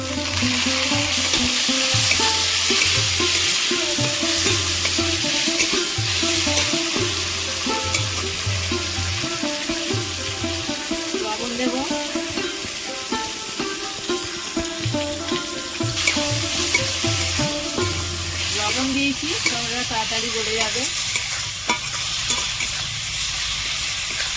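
Onion, garlic, green chilli and chopped tomato fry in oil in a pan, giving a continuous close sizzle with frequent stirring scrapes and clatter. Music plays quietly underneath the sizzle.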